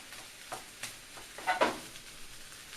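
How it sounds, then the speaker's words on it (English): Shrimp fried rice sizzling and frying in a hot pan, with soft crackles and a few stirring scrapes, the loudest burst of sizzle rising briefly near the middle before settling back to a low fry. "You hear it frying because you're making fried rice."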